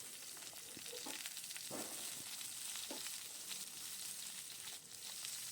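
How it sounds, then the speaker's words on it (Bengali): Salted eggplant fries in oil after a tempering of nigella seeds and dried chilli, giving a soft continuous sizzle with occasional light taps and stirs, quiet and without speech. "সামান্য লবণ দিলাম দিয়ে বেগুনটা ভেজে নিতে হবে"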